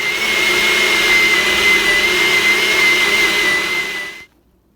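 A blender runs at a steady high whine while mixing keto chia pudding, loud and close for about four seconds before cutting off abruptly into near silence.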